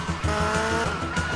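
Car braking and skidding in GTA Vice City, a tire squeal over a steady engine drone that runs through the whole short stretch, loud and close with no talking.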